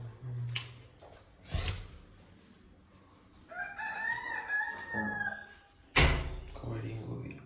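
A rooster gives a single drawn-out crow near the middle, fairly close and clear, with heavy thumps and knocks before and after it.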